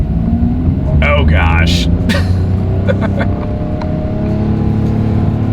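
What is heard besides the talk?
2024 Mitsubishi Mirage G4 accelerating in the rain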